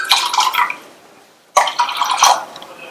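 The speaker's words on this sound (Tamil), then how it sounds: "1/4 கப் தண்ணி சேர்த்திருக்கேன்." Water is poured into a mashed green gram soup in two splashy bursts with a short pause between them, close and clear, with no talking.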